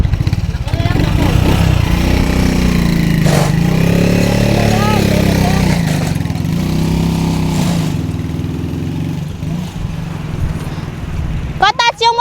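A motorcycle engine idles and runs steadily nearby with a low continuous hum, while people talk over it throughout; a brief clatter of sharp sounds comes near the end.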